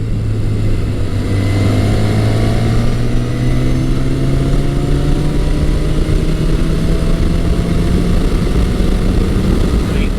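A Yamaha XS1100 motorcycle engine running strongly, a loud, steady drone with its pitch climbing slowly as the bike accelerates through a top-gear roll-on.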